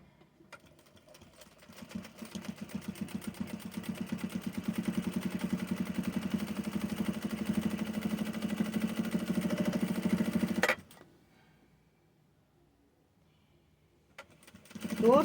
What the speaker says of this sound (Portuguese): Vamos costurar a nossa bolsinha.